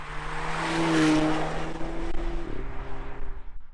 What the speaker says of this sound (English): so we're gonna also head out and go for a nice little drive with this car.